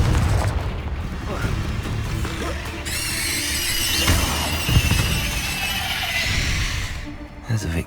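Booming fire-spell blasts of Confringo in the Hogwarts Legacy video game burst out repeatedly over a dense, loud battle soundtrack, with a sharp crackling flare midway and a final thud near the end.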